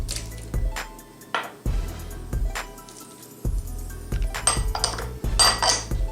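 Watermelon salad tossed in a bowl, with a run of irregular clinks and soft wet squishes from utensils against the dish, close and fairly quiet.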